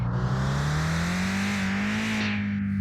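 A car revs at full throttle in the Mon Bazou racing game on hard mode, the engine note climbing steadily and staying loud and close for the whole stretch, with no talking.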